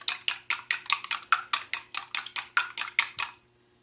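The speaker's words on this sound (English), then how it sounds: "Don't overbeat the eggs. Just make sure the egg yolk and egg white" Eggs for egg tarts are beaten in a bowl with quick, evenly spaced clinking strokes, about a dozen close taps against the bowl in a steady rhythm before stopping.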